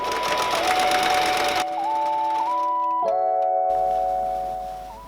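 A sewing machine stitches a fabric scrap at tension 3 and stitch length 4, running as a close, continuous mechanical hum with steady pitch and brief shifts in tone, and no voices over it.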